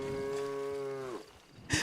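A cow in the online version of Red Dead Redemption 2 on PC gives one long, clear moo that slides down and fades, followed by a short burst of other game noise.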